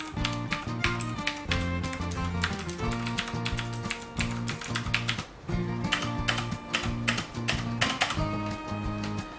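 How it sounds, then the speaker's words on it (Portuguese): Rapid clacky typing on a Redragon Kumara K552 mechanical keyboard with Cherry MX switches, dense bursts of keystrokes with brief pauses, close and loud throughout. "Teclado Redragon, escuta."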